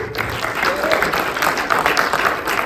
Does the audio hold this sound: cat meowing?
no